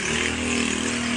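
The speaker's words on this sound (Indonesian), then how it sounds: "Aduh, berisik sama motor" A motorcycle engine drones loudly and steadily nearby, a constant buzzing roar with no pauses.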